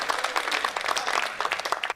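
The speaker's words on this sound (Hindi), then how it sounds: "एक बार आश्वस्त भरी तालियां" Audience applause at a Hindi poetry recital, steady dense clapping from a large crowd filling the whole moment without a break.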